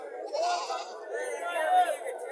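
Goats bleat twice at the busy Mirshanni cattle market in Comilla, two wavering cries close by over a murmur of crowd chatter.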